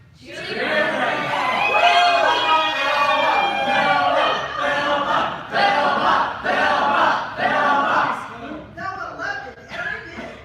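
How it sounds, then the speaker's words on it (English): A crowd of fans cheering and shouting for a star, a loud, sustained roar of many voices with rising and falling swells that fill the whole stretch. "All across the whole wide world, her fans would cheer her name."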